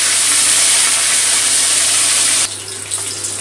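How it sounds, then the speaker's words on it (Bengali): Hilsa fish head sizzling in hot oil, a loud, steady frying hiss that runs without a break and then drops sharply to a quieter simmer partway through. "উল্টে পাল্টে মাছের মাথাটা ভালো করে ভেজে নেব।"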